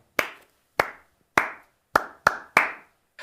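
Six sharp hand claps in a loose, slightly uneven rhythm, close and clear with a short ring after each, like a small, sparse round of applause with no talking.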